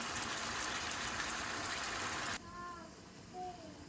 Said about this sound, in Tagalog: Dadagdagan ko ng tubig itong ating tinola